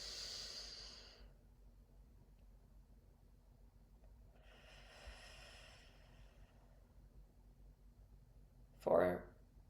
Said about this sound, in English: And a gentle exhale